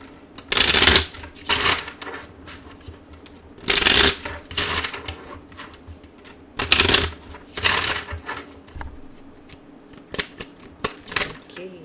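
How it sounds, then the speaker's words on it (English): Tarot oracle cards are shuffled in several loud, crisp bursts of riffling and flapping, separated by quieter pauses with faint handling noise. "I feel like shuffling."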